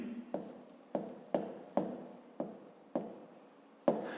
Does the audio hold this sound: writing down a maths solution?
yes